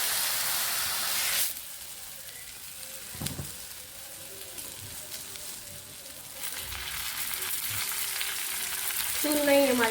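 Dhapate flatbread with onion frying in oil on a griddle sizzles and hisses close by, with a loud burst at the start, quieter crackling through the middle, then the sizzle swelling again with a few clinks.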